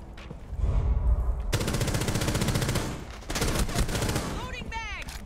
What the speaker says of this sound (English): That was a lot of bullets.